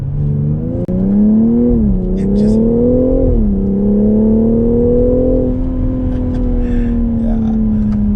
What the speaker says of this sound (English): it's got an M Sport exhaust, which cracks